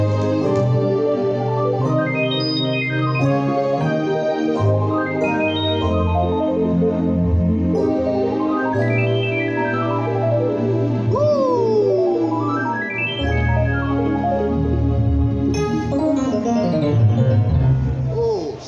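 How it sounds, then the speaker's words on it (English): Yamaha Montage 8 synthesizer playing rising and falling arpeggios that follow sustained chords, a continuous loud bright pattern with a pitch-bend sweep midway. "Most times people ask question of how can we get our arpeggios to sound like this, like follow your chord."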